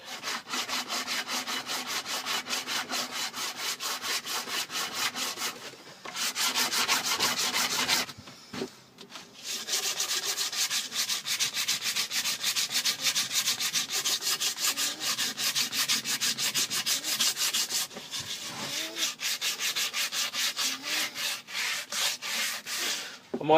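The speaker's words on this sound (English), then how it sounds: "I might just do it with the rough sanding block" Coarse rasping strokes of a rough sanding block on an old wooden axe handle, rapid back-and-forth scrubbing in bursts with two short pauses, close and alone.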